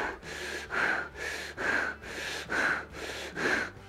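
Deep diaphragmatic breathing exercise: about five slow, evenly spaced breaths with loud, airy hissing through the mouth or nose, close to the microphone, no talking.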